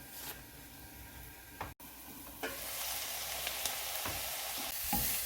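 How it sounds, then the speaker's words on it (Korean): Korean namul vegetable side dish, part of a five-kind holiday set with spinach, bean sprouts, radish, bellflower root and bracken, stirred while frying in a single pan, giving a steady sizzle with a few scraping stirs and a brief lid clatter. "또 덮었다가 열었다가 계속 타지 않게 저어주세요."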